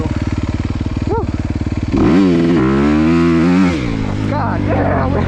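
A 2023 Honda CRF250R dirt bike on launch control: a rapid, even idle putter, then a loud, close engine roar that rises and falls through the revs before easing back, with a voice briefly shouting over it.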